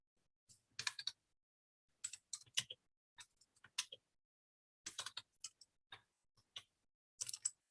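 Computer keyboard typing in a quiet room: short clustered bursts of crisp key clicks, close and clear, with pauses between words.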